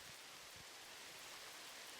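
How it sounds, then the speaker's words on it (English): Steady rain falling across a planet's surface in the space exploration game No Man's Sky, a soft continuous hiss of droplets with a few faint low thumps, quiet and even throughout. "So, a spectacularly and interesting sound, some rain."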